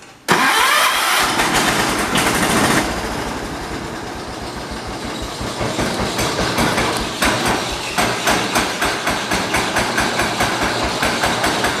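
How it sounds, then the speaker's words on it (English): A John Deere 212 lawn tractor engine cranks and catches, then settles into a loud, steady, rhythmic idle with regular pulsing firing beats, close by with no talking. "I'll start it up for you so you can hear it"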